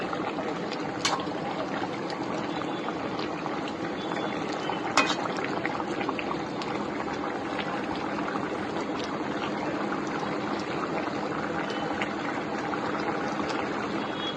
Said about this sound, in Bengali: আর একটু ঢাকা দিয়ে দেবো, আর একটু ফুটবে এটা